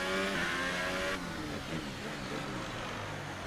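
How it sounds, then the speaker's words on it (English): A faulty race car engine in the F1 2018 video game drones loudly and continuously while braking on the Singapore track, its rough whine dropping partway through. "my engine has a problem because when I'm braking I can hear it's like"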